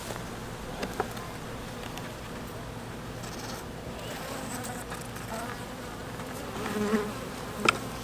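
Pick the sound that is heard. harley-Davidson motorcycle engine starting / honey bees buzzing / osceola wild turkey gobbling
honey bees buzzing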